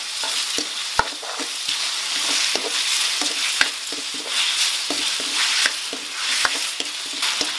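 A steady sizzle of chicken feet frying over high heat in a pan with oyster sauce, with repeated clacks of a utensil stirring and scraping at irregular intervals.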